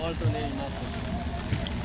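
Small boat travelling on water on a windy, cloudy day with rain, low rumbling wind buffeting and water wash under continuous nearby talk.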